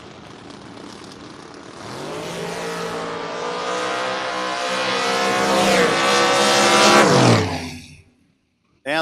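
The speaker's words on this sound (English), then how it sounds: "Jr. Youngbar in the wild-looking Mustang on the Coors Light side, 571 dial-in" A Mustang and a Camaro door car launch side by side in a drag race, a loud sustained engine roar that climbs steadily in pitch over several seconds, then cuts off abruptly into near silence.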